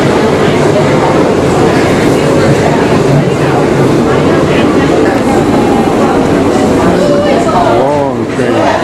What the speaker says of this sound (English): here comes a train that's leaving